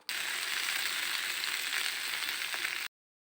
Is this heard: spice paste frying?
yes